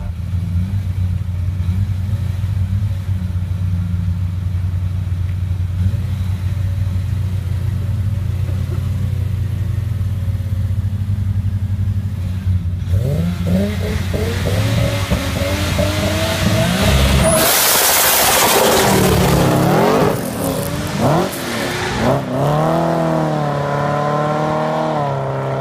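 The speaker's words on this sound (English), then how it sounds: "This 650 brake horsepower R32 Skyline GTR goes against a 550" A 650 horsepower R32 Skyline GTR races a 550 horsepower Chevelle, with a loud steady engine drone that breaks into hard, rising revs and gear changes, plus a sharp burst of tire and exhaust noise near the middle.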